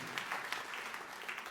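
Congregation applauding during a Christmas Day church service: a short burst of steady, dense clapping that stays at an even level throughout.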